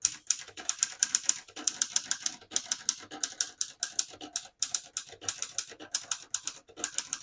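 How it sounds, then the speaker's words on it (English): A 1954 Hermes Rocket portable typewriter typed on at a steady pace, crisp close key strikes in quick clusters with brief pauses between words, alone without voices. "I'll type a sentence on this next line."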